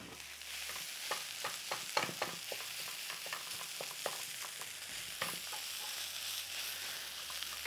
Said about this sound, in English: So we might have to break it up a bit in the pan with our spatula.